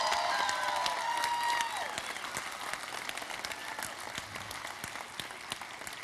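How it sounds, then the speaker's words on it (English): Audience applause for a family on stage: steady, dense clapping from a crowd with a brief whistle near the start, then slightly softer but sustained clapping to the end. "How about a round of applause for the rest of the family?"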